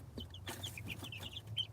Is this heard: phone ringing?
no